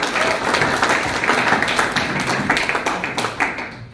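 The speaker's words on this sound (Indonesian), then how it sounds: "Tepuk tangan bagi kita." A Sunday worship congregation at a theological college in Tawangmangu breaks into applause: loud, dense clapping from many hands that holds steady for several seconds, close and unbroken, with no talking.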